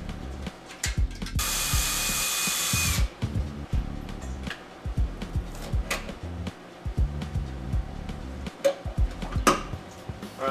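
Factory speaker bracket being removed from a car door panel, with repeated ratcheting clicks, a short burst of power-tool whir and scattered clunks of metal and plastic, all close.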